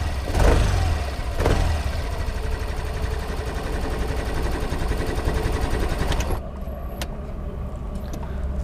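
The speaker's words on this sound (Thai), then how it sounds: "แล้วก็เสียงของตัวเครื่องยนต์นะครับ ก็จะเป็นประมาณแบบนี้นะครับ" A Yamaha Grand Filano Hybrid 2021 scooter engine runs steadily up close, a continuous buzzing drone with a couple of louder revving bursts at the start.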